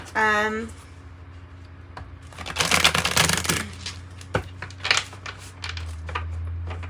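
Bursts of crisp riffling and slapping as a deck of tarot cards is shuffled, with a brief voice at the start and a low hum underneath.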